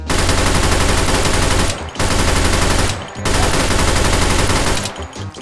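A submachine gun in the VR shooter H3VR fires in three long, loud, continuous full-auto bursts, each emptying a magazine in a couple of seconds, with short gaps between.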